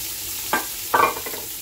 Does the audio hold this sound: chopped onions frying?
yes